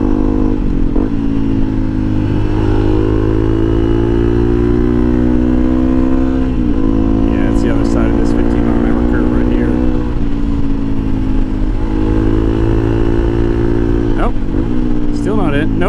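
A motorcycle rides steadily along a road on tires running about 12 psi, its engine droning loud and close with shifting revs under heavy wind rumble.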